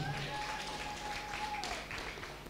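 Worshippers in a Swahili-speaking church service clap for Jesus, a dense, fairly quiet patter of many hands continuing steadily for a few seconds.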